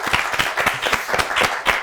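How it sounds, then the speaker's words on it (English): Audience at a national science quiz clapping for the winning team, a short burst of fairly loud, distinct handclaps from a modest group, rhythmic and close, with no voices over it. "Give me a round of applause"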